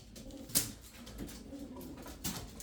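Soft low cooing of Ankara tumbler pigeons with a couple of sharp flutters or clicks in a quiet, hissy space.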